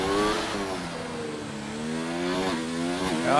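A racing car in a Formula 1 style video game screams through the Monaco street circuit, its high engine note rising and falling through gear changes, loud and close, with no talk over it.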